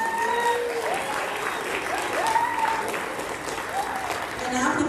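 Applause from an audience at a school awards ceremony, a steady wash of many hands clapping throughout, with voices speaking faintly over it.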